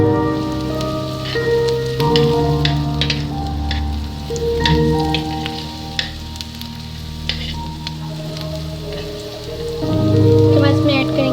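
Rice ingredients for peri peri rice lightly frying in a pan give a steady, close crackling sizzle that runs the whole time beneath sustained tonal background music.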